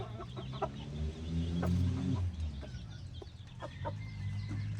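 Chickens cluck in a farm yard, with a fighting rooster nearby, steady overlapping calls and short squawks at moderate distance, bird chatter faintly behind.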